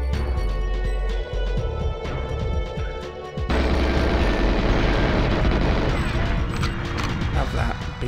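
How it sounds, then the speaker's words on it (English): Heavy booming blasts and crashing debris from the video game GoldenEye 007 fill the clip continuously, loud and dense, with layered rumbling impacts and gunfire-like bursts. "Big explosions."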